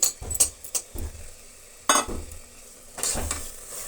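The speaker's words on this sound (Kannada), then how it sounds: "ಇಷ್ಟನ್ನು ಕೂಡ 1 ನಿಮಿಷಗಳ ಕಾಲ ಫ್ರೈ ಆಗಲಿ" Yogurt mixture frying in a pan for spinach egg biryani, with a low sizzle broken by several sharp bursts of stirring, scraping and utensil clinks close by.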